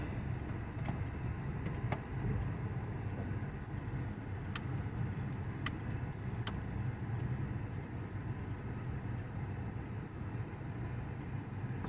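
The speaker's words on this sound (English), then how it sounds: "so the idle is looking real good." A 1997 Nissan Altima with an intake leak repaired idles steadily, a low even rumble throughout with a few faint ticks and clicks, no voices.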